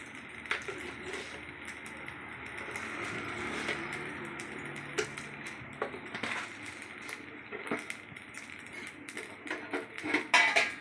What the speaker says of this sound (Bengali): ভাতের সঙ্গে ভালো করে নেড়ে চেড়ে মিশিয়ে নিলাম।